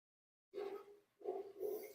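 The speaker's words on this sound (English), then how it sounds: "wish Sadie would stop barking" A dog barks indoors in two short, close bursts, a brief gap between them. Each bark is loud and slightly drawn out.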